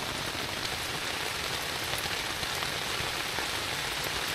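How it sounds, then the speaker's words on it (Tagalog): Heavy rain drums steadily on a tent overhead at a campsite in Bataan, a dense constant hiss with scattered drop taps, close and uninterrupted, no one speaking. "Lakas ng ulan sa labas guys."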